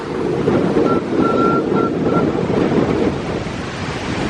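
Strong wind roars and buffets the microphone continuously on a hillside trail, a heavy rumbling rush with no voices, loud and close throughout.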